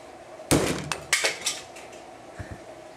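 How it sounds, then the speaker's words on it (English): A hammer strikes an unreinforced airsoft gun piece until it fractures: a sharp loud crack, then several lighter hard knocks and rattling fragments, close up with no talk. "let's just simple impact test with a hammer until I can fracture it"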